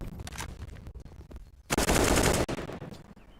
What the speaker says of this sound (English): they hear all those shots getting fired off